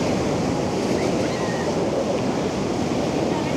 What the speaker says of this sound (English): it is a little choppy sea